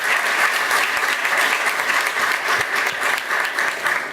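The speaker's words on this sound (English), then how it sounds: "A big round of applause for Speaker Nancy Pelosi." An audience at a Gandhi birth anniversary event at the US Library of Congress gives sustained, loud applause, a dense wash of clapping that continues evenly throughout with no talk over it.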